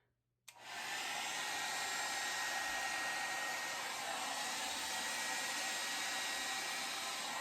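A hair dryer switches on with a click and blows a steady, loud, continuous whoosh across acrylic pour paint, holding an even roar for several seconds without any talking.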